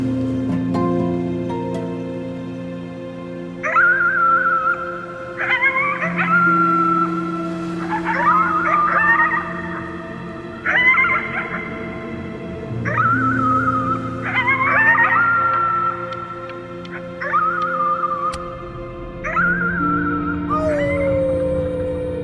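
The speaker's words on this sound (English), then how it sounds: "You howled at the moon at the top of your lungs." Drawn-out howls at the moon from the video game Before Your Eyes, rising and falling in repeated wavering cries over a sustained low musical drone, loud and close.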